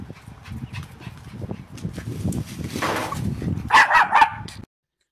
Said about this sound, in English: you have a Jack Russell puppy